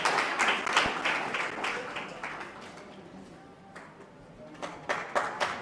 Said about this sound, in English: let's continue to clap for her